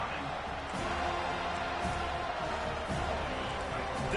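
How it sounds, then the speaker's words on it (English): A stadium crowd roars in a college football video game during a third-down defensive stand, a steady dense wash of cheering with faint thumps, while a commentator talks over it. "Decibels rising as the crowd gets behind this defense on third down"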